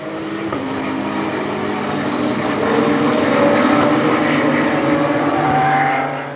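Radical racing cars at Dijon-Prenois surge away from a rolling start, a loud, dense blend of engines building in pitch and intensity as the field passes close by, with no voices heard.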